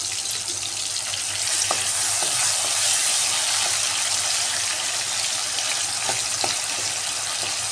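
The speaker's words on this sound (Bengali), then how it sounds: "এভাবে ভাজা ভাজা করে টমেটোটাকে নরম করিয়ে নিচ্ছি" Tomatoes frying in a pan for a vegetarian aubergine dish with nigella seeds, giving a steady close sizzle with occasional scraping stir strokes and soft clinks, no voices.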